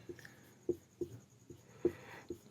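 A pen writes on paper during a class 8 math lesson, with a few faint, soft taps and scratches at irregular intervals in a quiet room.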